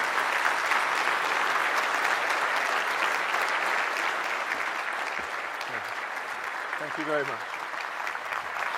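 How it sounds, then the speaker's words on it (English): An audience greets a professor with sustained, loud applause that gradually tapers off, before a voice briefly speaks over the fading claps. "I hope you thank him, though, by giving him the warmest possible applaud."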